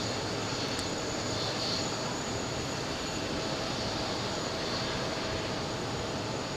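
A JetBlue Airbus A321 departs JFK on a flight to Los Angeles, its jet engines giving a continuous distant roar and whine that holds steady throughout, with no voices.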